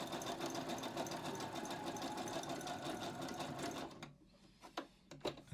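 A sewing machine stitches a wide zigzag along an elastic waistband, running at an even, rapid pace for about four seconds before stopping, leaving a few faint handling clicks and rustles.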